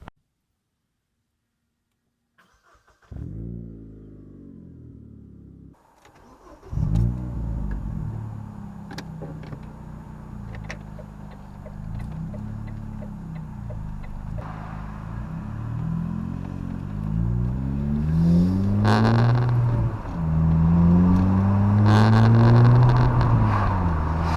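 An engine starts after a quiet moment, idles roughly, then revs and pulls away, its drone rising and falling steadily as the vehicle drives on.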